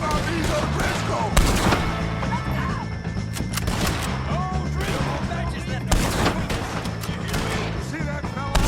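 Dense gunfire in a Red Dead Redemption 2 shootout, with rapid overlapping shots, crashes and impacts filling the scene without pause, under shouted voices and music.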